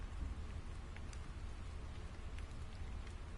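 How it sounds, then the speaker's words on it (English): Steady rain pattering in the farming video game Story of Seasons: Friends of Mineral Town, a soft, continuous hiss of falling drops with occasional faint splashes, heard alone. "Rain again."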